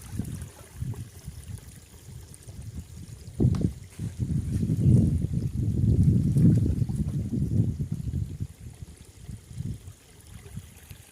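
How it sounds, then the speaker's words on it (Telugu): Spring water flows from beneath an old mango tree beside a stream in dense forest at a natural jalagundam in the Reddigudem woods. It makes a continuous low, rushing trickle, moderately loud and steady, with no talk over it. "ఆశ్చర్యం ఏంటంటే మామిడి చెట్టు కింద నుండి నీళ్లు వస్తూ ఉంటాయి"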